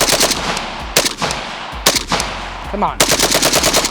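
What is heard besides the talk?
Kalashnikov USA AK rifle bump firing 40-round magazine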